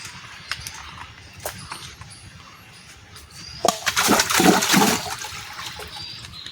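Pond water is slapped by hand to oxygenate fish, producing a few scattered splashes and then a louder, sustained churning burst of water nearby, with faint outdoor ambience and no talking.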